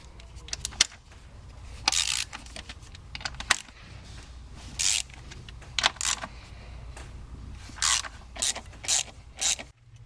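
A hand ratchet clicks in repeated short bursts while removing the 10 mm bolts joining the upper and lower intake on a 2002–2005 Land Rover Freelander, crisp and close with brief pauses between strokes.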